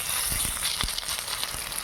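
Hinche greens fritters in gram flour batter frying in hot oil, a steady close sizzle with soft crackles and a few brief clinks throughout.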